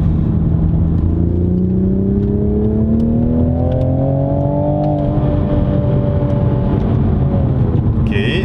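A 2020 Toyota GR Supra pulls hard under acceleration in manual mode, its engine note climbing steadily through the revs as a loud, continuous in-cabin drone with road rumble beneath, with a brief shift around five seconds.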